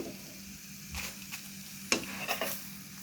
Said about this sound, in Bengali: আর এখানে হালকা তেল দিয়ে পরোটাগুলো সেঁকে নিচ্ছিলাম।